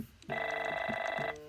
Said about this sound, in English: I apologize if that's my phone ringing